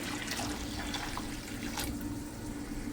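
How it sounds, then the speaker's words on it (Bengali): Hot water is poured into a pan of slowly cooking local meat, a continuous liquid splashing and rushing that holds steady at moderate level with a few brighter splashes, no talking. "এইখানে আমি পানি ঢেলে দিচ্ছি গরম পানি"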